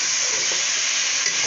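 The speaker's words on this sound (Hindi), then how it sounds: "तो जी चिकन अभी वाइट होना शुरू हो गया है, तो अभी इसको मज़ीद फ्राई करेंगे।" Chicken pieces fry in a pot for Degi-style korma, giving a dense, even, close sizzling hiss that stays steady and loud throughout the short stretch with no voices.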